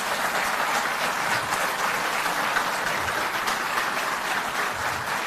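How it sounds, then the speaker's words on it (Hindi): Large audience at a public government event applauding loudly and continuously, a dense, even wash of clapping with no pauses throughout. "तालियां बजती रहें।"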